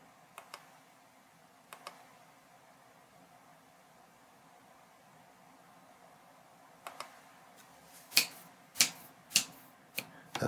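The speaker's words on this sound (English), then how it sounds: "That's my fingers clicking" Fingers click on keys in a quiet room, a few isolated taps early on and then a quicker run of sharp, distinct clicks near the end, close and fairly loud against a low hiss.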